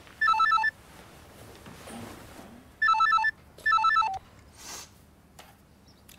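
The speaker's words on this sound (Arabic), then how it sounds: "تليفونك بيرن" A phone ringtone plays three bursts of bright electronic tones with short quiet gaps between them, clear and close in an otherwise hushed room.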